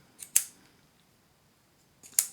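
Two crisp mechanical snaps spaced about two seconds apart, close up and quiet, each a sharp click from the bolt mechanism of a Suprlativ V Bolt pen.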